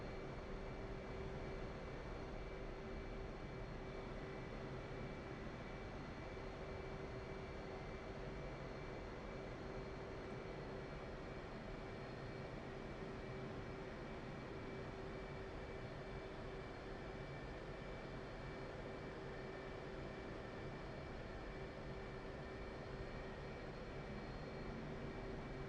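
Steady jet engine whine and low rumble from a military jet taxiing across an aircraft carrier deck in the DCS flight simulator, a constant drone with no breaks and no talk.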